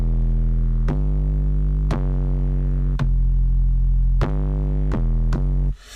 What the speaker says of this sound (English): It's just another bass line, and it sounds like this.